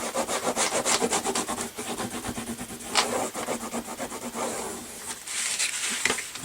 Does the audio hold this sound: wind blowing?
no